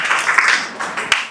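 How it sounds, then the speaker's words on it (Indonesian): Students in a classroom clap together briefly, the applause loud at first and then tapering over about a second, with a few sharp claps near the end. "tepuk tangan buat kalian semua"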